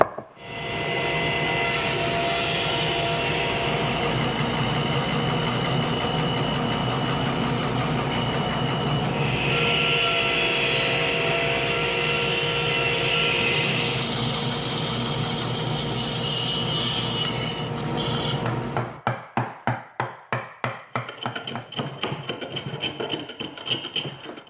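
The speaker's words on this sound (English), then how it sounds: "That process is done on the bandsaw, and then I finish and clean up the bandsaw marks using hand planes." A bandsaw cuts through hardwood for a dining table leg in a workshop, a long continuous rasping whine, followed near the end by rhythmic strokes of a hand plane smoothing away the saw marks.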